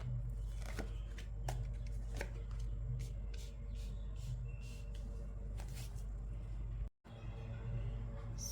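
Tarot cards being shuffled for a reading: steady close papery riffling and slapping with repeated crisp card snaps, over a constant low background hum and a brief dropout near the end, no voices.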